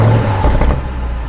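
A 2020 BMW M850i Gran Coupe's 4.4-liter twin-turbo V8 fires up, heard from the driver's seat as a strong, steady low rumble and rev flare that settles toward idle.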